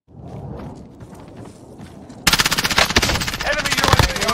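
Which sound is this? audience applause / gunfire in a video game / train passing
gunfire in a video game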